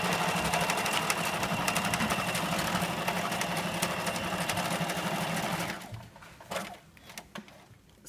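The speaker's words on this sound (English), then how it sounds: "Big stitch, don't back stitch." A sewing machine runs a long, big stitch in a steady, loud whirring burst for several seconds, then stops, leaving a few faint handling noises and quiet room tone.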